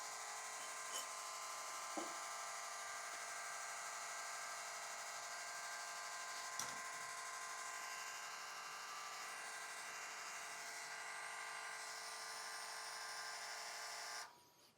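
An electric valve actuator motor, an MESC004 on/off unit, turns a valve counterclockwise toward open with a faint, steady whir, a few soft clicks along the way, and a quick stop at the end.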